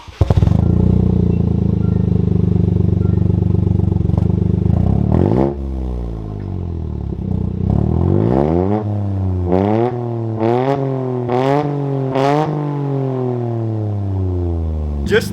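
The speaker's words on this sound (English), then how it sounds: "Let's start this car and give it a few revs so you guys can hear this aftermarket exhaust and hear this turbo" A Toyota GR Corolla's turbocharged three-cylinder engine with an aftermarket exhaust, starting up with a loud close idle drone, then several sharp revs rising and falling in quick succession with exhaust burble between them.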